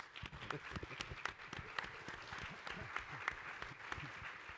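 An audience at a talk on freedom and flourishing gives a quick round of applause, a moderate-sized crowd clapping in irregular, fairly quiet bursts throughout.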